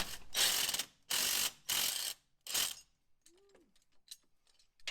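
Hand ratchet loosening a 14 mm bolt on a Jeep JL Wrangler rear driveshaft, four quick close bursts of loud clicking pawl, then quieter light metallic clinks.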